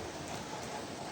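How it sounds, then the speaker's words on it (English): Steady rain falling outdoors, a dense, even hiss of drops with no breaks, fairly quiet and close, with no voices over it. "It's raining right now and I'm making this YouTube video."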